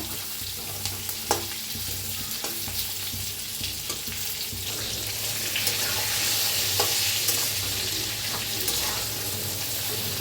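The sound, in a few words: masala and brinjal frying in oil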